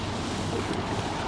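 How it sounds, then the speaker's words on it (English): Water rushing and washing steadily, heard close and continuous outdoors, with a broad wind-like wash and rumble all the way through; no talking. "You hear the water?"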